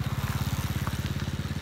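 Motorcycle engine on a road at dusk, a steady, close, rhythmic low putter that pulses evenly throughout with no voices.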